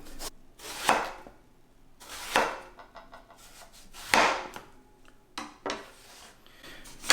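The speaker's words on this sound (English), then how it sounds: "The first thing we're going to do is trim and slice the eggplant." A kitchen knife trims and slices eggplant on a wooden cutting board, making several distinct cutting strokes with quiet pauses between them, close and fairly soft.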